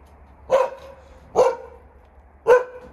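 Three sharp dog barks at a person, evenly spaced about a second apart, loud and close with quiet gaps between them.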